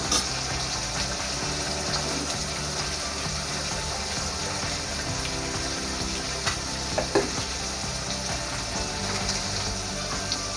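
Oil heats in a pan with a continuous crackling sizzle, close and even, with a few small pops and clinks along the way.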